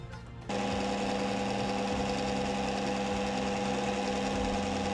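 A Wonderchef Chef Magic kitchen machine whirs loudly and steadily as its sauté blade turns a coconut and jaggery mixture. The motor starts half a second in and keeps up a constant mechanical drone.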